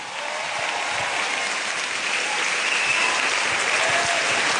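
A large crowd at an outdoor stand-up comedy show in Semarang applauds a comedian, a loud, dense, even roar of clapping that fills the whole stretch without a break.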